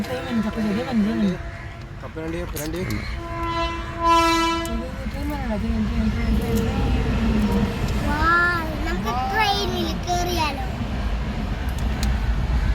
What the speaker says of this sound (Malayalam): ട്രെയിൻ എത്തിയിരിക്കാൻ